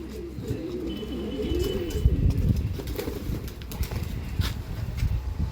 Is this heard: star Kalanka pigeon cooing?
yes